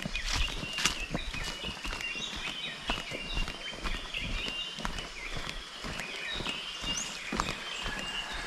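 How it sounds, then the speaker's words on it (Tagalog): Several birds chirp and whistle at a distance through steady outdoor background noise, with irregular soft thuds that may be footsteps. "Iba't ibang ibon ang marinig dito natin ngayon mga kaprobinsya."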